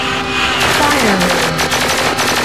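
Rapid weapon fire in the space shooter game Star Combat Online, a loud, dense burst of repeated shots with a falling synthetic whine beneath, filling the whole moment without speech.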